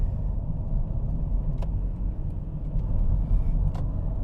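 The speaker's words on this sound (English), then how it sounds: "This truck was like, I know you're coming at 60 miles an hour, but I'm just going to pull out in front of you anyways." A car's interior road rumble at highway speed, a steady low drone with faint clicks as a truck pulls out ahead, no voices.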